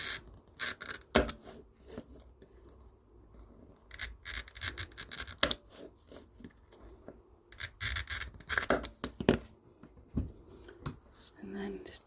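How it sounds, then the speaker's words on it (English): Oiled glass cutter scoring fused-art glass, a series of short scratchy scraping strokes in uneven bursts, fairly quiet and close, with some soft talking mixed in. "It's sounding a bit scratchy, and then just cut along those sort of lines"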